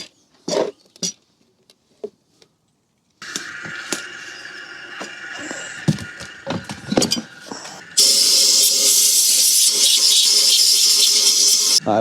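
Carbon deposits are cleaned from an Audi TT Mk2 EA113 TFSI engine, with scattered scrapes and taps, then busy rattling work noise, then a loud, continuous hiss of cleaner being sprayed that runs to the end.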